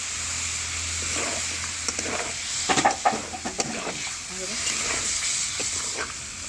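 A splash of water hits spices and potatoes frying in a wok for a Bengali fish, potato and bori curry, giving a soft hiss with a few brief clattering stirs and faint background noise.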